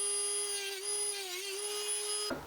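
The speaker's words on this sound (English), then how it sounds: "Okay, so I ran the Dremel" A Dremel rotary tool cuts into a 2013 GMC Sierra extended cab rear door panel, making a steady high-pitched whine at close range that runs continuously and then cuts off abruptly near the end.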